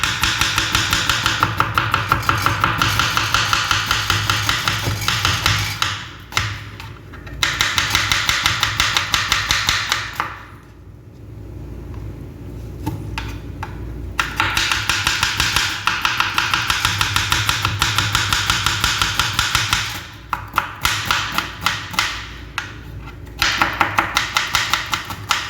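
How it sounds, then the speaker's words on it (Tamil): A knife chops steadily through onions sliced thin on a board, with rapid, even taps in long runs broken by brief pauses, close and loud throughout. "இப்போ நான் வெங்காயம் கட் பண்ணிக்கிறேன்"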